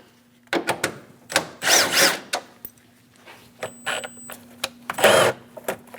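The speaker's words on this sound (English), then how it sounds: "Using a 10mm socket, remove the 2 bolts for the air cleaner." Clicks and brief ratcheting bursts from a 10mm socket wrench as two air cleaner bolts are removed on a 4.8L V8 Chevrolet Express 2500, 2003-2025, with short metallic scrapes and taps between quiet gaps.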